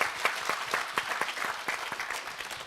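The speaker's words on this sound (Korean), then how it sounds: "추기경님의 큰 박수 쳐드리시고요" An audience at a memorial concert marking ten years since Cardinal Kim Sou-hwan's death claps for him, a dense, even round of applause with distinct individual claps standing out, sustained and unaccompanied by speech.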